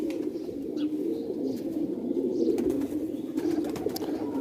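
Rare Sialkoti pigeons with white necks coo in low, soft, continuous murmurs close by, with a few faint chirps overhead and no talking.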